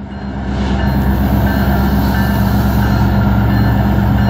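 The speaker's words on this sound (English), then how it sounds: "There's a lot of engines on this train." A long freight manifest train hauled by six CN, Kansas City Southern and BNSF locomotives rumbles past nearby on the Strathroy Subdivision, a loud, continuous engine drone with a steady wheel roar and no voices.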